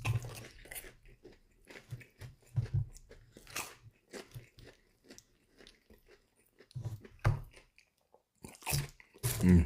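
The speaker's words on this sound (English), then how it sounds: "I'm gonna finish off these jalapeno cheesy bites before they're too cold." Someone eats crunchy Burger King jalapeno cheesy bites close to the mic, with repeated loud bites and crunches broken by quieter chewing and short pauses.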